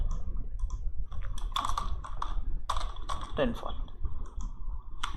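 Quick, light keyboard typing as data is entered into a spreadsheet, with irregular clusters of soft key clicks and brief pauses between bursts.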